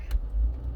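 A truck rumbles past outdoors, a low, heavy engine drone that swells briefly and stays close throughout the short moment, with no voices.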